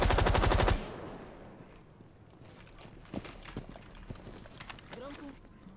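Loud, close automatic gunfire from Rainbow Six Siege rattles in a rapid burst, then cuts off abruptly, leaving quieter scattered clicks, footsteps and faint in-game sounds.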